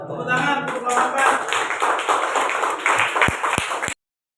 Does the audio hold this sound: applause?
yes